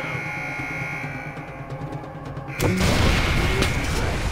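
A grenade launcher bomb goes off in the Far Cry 4 video game, a sudden loud blast bursting in partway through after quieter game sounds and lingering as a dense rumble.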